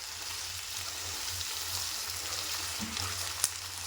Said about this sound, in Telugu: కలిపేసుకొని దొండకాయలను మనము మంచిగా ఫ్రై చేసుకోవాలండి.